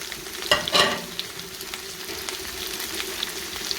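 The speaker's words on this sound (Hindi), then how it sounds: "इनको हम हल्का सा फ्राई करेंगे।" Sliced okra (bhindi) fries in hot oil in a kadhai with a steady, faint sizzle. A couple of brief stirring scrapes stand out near the start, and no one talks.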